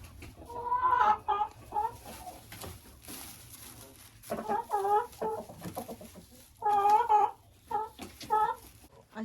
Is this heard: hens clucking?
yes